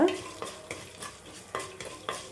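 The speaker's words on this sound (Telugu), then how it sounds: "ఒక 10 వరకు ఎండుమిర్చి తీసుకున్నానండి, చిన్న సైజు. ఇవైతే వేసుకుందాం. ఇవి కొంచెం వేగిన తర్వాత" About ten small dried red chillies fry in hot oil for a rasam, with a soft sizzle and a spoon scraping the pan in regular strokes, close and unaccompanied.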